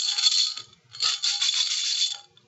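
A full jar is shaken so that its contents rattle in two quick bursts separated by a short pause, bright and close with no talking.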